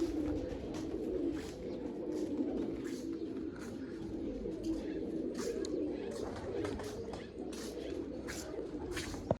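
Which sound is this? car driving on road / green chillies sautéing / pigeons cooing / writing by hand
pigeons cooing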